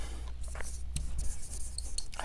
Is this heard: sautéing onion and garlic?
no